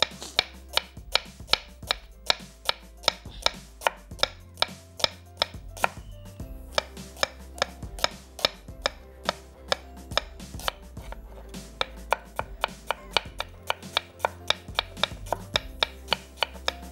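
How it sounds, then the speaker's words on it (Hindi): A knife slices an onion finely on a cutting board, a long run of crisp, evenly spaced taps close to the microphone, with a brief pause midway before the steady rhythm resumes. "तो यहाँ पे प्याज को बहुत आराम से बारीक स्लाइसेस करने हैं।"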